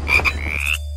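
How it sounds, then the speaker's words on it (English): A frog croaks once in a short, loud, close call with a rising, reedy tone, part of a children's Halloween jungle song, with no speech during it. "It's a frog."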